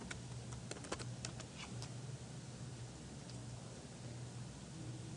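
Quick, light key taps on a computer keyboard as a pharmacy name is typed into a search, clustered in a brief burst and then thinning to a few scattered clicks over a steady low hum. Quiet and close, with no voices.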